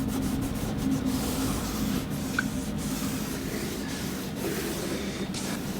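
Wax oil rubbed by hand into ash wood window sill trim, a steady soft scuffing and brushing friction that continues evenly throughout, close up, with no talking.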